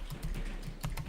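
Computer keyboard keys typed in quick, even bursts during accounting software data entry, close and clear with no voices.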